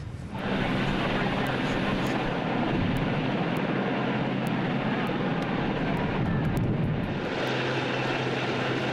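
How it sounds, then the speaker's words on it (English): A loud, steady rotor and engine roar of a search and rescue helicopter fills the recording continuously, with a faint voice partly buried beneath it. "A search and rescue helicopter arrived and used a long line to bring the man to safety"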